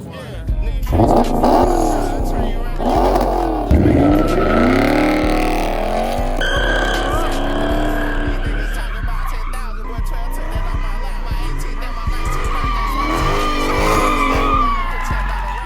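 A Chrysler 300 with a Scat engine swap revs hard and its tires squeal and skid in long, loud, sweeping bursts, with engine pitch rising and falling, under occasional shouting voices.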